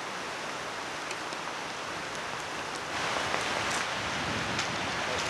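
Steady rain falls along the Margaree River during salmon fishing, a dense, even hiss of drops on water and surfaces that holds throughout and grows slightly heavier midway, with no voices.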